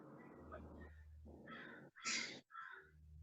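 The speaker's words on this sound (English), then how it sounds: "There's the crows. Do you hear them?" Several crows caw in a short series of harsh calls, fairly near, with gaps between them.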